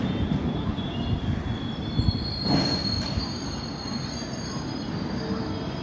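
A train rumbling along the rails near a flat in Dongri, Mumbai, wheels squealing in a high sustained tone over the steady low roar of the passing cars.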